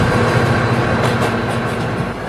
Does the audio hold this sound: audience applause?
no